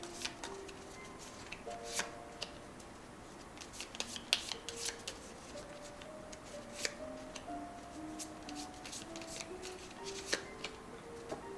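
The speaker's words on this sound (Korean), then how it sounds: "먼저 추가 카드 3장 먼저 뽑아놓고 나서 리딩 시작할게요" Tarot cards shuffled and drawn up close, with soft rapid riffling, sliding and flicking sounds and light taps, quiet and without talk.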